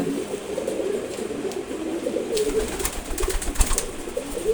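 A pair of Sobji Gorra pigeons coos in soft, repeated low calls close by, with light rustling and scratching sounds in the cage around them.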